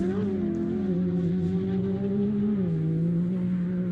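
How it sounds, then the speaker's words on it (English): A GRC Motorsport Can-Am Maverick R side-by-side racing past at the 2025 St George 399 desert race, its engine a steady, droning whine that dips slightly in pitch as it goes by. "GRC Motorsport Can-Am Maverick R"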